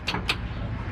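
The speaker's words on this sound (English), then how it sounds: "That's a satisfying button click" Two quick, sharp button clicks in a three-rotor car's electrical setup, close together near the start, then a low steady hum with no talking.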